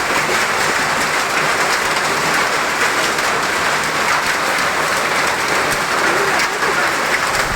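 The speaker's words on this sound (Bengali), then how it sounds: "তার কিছুক্ষণ পরেই দেখো কি জোরে বৃষ্টি এসেছে গাইস, সাউন্ডটা শোনো" Heavy rain with hail pours down in a dense, loud, continuous roar that stays constant and close throughout, with no voices.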